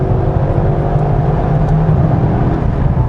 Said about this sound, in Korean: 운전하는 내내 귀를 즐겁게 해주는 이 배기 사운드를 가지고 있어요